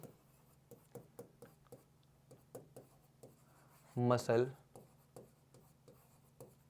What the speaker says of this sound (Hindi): जवाब लिखते हैं इसका